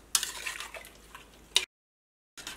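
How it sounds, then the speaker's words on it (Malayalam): A potato curry mixture with turmeric and water is stirred with a spoon, making a few scraping clinks and taps against the pot. After that comes a brief silence, then one more clatter. "ഇതെല്ലാം കൂടിയിട്ട് നന്നായിട്ട് മിക്സ് ചെയ്യാം."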